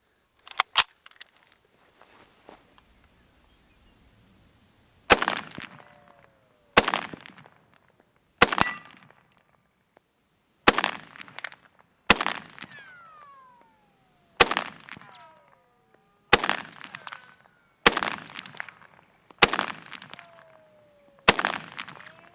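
A semi-automatic SKS rifle fires ten rounds outdoors, each shot a sharp, loud crack with a ringing echo, spaced about one to two seconds apart in an uneven rhythm after a few quiet handling clicks.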